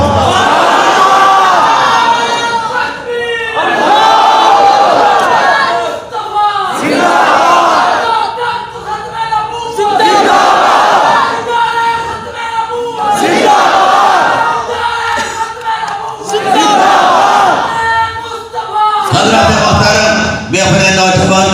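A large crowd of young men at a religious gathering chants slogans in loud, rhythmic call-and-response waves, repeated bursts of shouting separated by short pauses, forceful and close.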